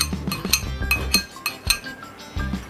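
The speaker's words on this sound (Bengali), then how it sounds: "এবার মিক্সড করে নিলাম বিট নুনটা দইয়ের সঙ্গে।" A spoon clinks repeatedly against a bowl while black salt is mixed into yogurt, a series of sharp close metallic taps in an uneven rhythm with soft stirring between them.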